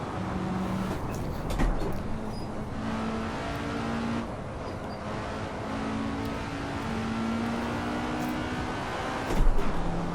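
A Russian race car in the Assetto Corsa racing game howls steadily at high revs with repeated gear shifts and pitch changes, a continuous engine drone without talking.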